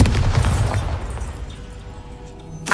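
A Bombarda blasting spell from Hogwarts Legacy goes off with a loud, deep boom, its rumble dying away over about two seconds before a short sharp sound near the end.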